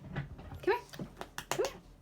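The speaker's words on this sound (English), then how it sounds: "She is an Australian cattle dog, Kelpie mix" An Australian cattle dog and Kelpie mix whimpers in short, rising whines spread across a couple of seconds, close by and fairly soft, with faint background noise between the cries.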